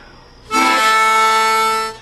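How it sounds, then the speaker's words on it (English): Harmonica tongue slapping on a 1-4 octave blow in a harmonic minor key: after a faint lead-in, one loud, sustained reedy chord swells in and holds steadily for about a second and a half, then fades, with no talking. "that's tongue slapping 1-4 blow"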